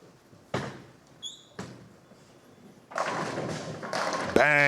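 At a PWBA regional stepladder final, a few soft thumps and squeaks on the lanes lead to a bowling ball crashing into the pins, a loud clattering burst that rattles on briefly amid arena noise.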